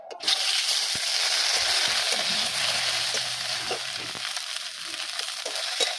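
Black cumin seeds and a ground bottle gourd leaf paste frying in hot mustard oil, a steady loud sizzle with crackling spatter that holds close throughout, no voices.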